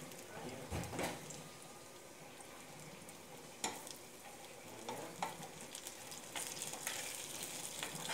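Cumin, mustard seeds and curry leaves frying on a tawa, a quiet, steady sizzle with occasional sharp pops and scrapes of stirring, with someone talking over parts of it.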